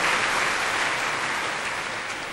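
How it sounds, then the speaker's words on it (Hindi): Audience applause at a satsang in Ludhiana, steady dense clapping from a crowd throughout, fairly loud and sustained with no talk over it. "ताली तो बजा दी"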